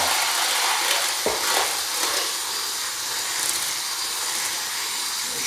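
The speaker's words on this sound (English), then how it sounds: "I'm going to start whipping this up" Cream is whipped by hand in a bowl, a continuous airy swishing and scraping with a single knock early on, steady and close throughout.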